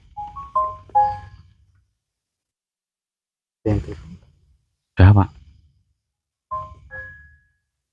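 A phone rings for an incoming call with short tonal melodic chimes at the start and again near the end, and people speak briefly in between.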